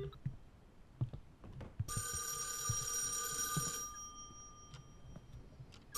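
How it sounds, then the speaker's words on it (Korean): A telephone rings with an incoming call inside an abandoned building, a bright trilling ring lasting about two seconds between quiet stretches of faint movement. "잠깐만 전화 오니까"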